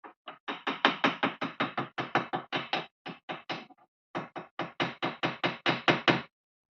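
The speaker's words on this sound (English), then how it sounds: "you can also lightly tap, not downwards but actually on the edges" Light metal taps on the edges of a Morris Minor universal joint, struck in quick even bursts of about a dozen sharp knocks each with brief pauses between, close and clear with no talking.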